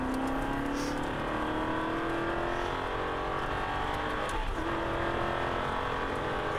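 An Aston Martin V8 Vantage on a race track pulls out of a corner, its engine a continuous rising drone with steady harmonics, heard from inside the cabin with no talk.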